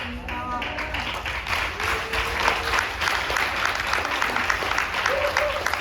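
A dense, steady wash of audience applause fills a Korean community forum hall on freedom, democracy and faith, with scattered voices mixed in and the clapping holding at an even level throughout.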